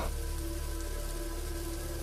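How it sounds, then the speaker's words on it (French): Heavy rain pours down in a dense, continuous hiss at night outside a motel, with a steady low hum underneath and no talking. "Vous n'allez quand même pas reprendre la route sous cette pluie battante."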